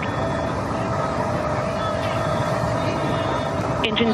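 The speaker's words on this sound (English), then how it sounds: "Engine back up to full throttle." A Blue Origin rocket engine at full throttle during a crewed launch, heard as a loud, steady broadband roar that holds evenly for the whole stretch, with a brief extra burst of noise near the end.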